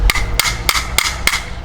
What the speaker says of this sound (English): We're gonna hammer this into the ground here.